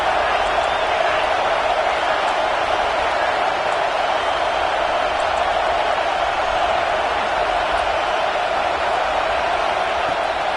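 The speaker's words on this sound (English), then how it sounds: "The Tide crowd rolling noise down on the Saban field on 3rd down." A dense, steady roar of a huge college football stadium crowd on third down, loud and continuous without letup.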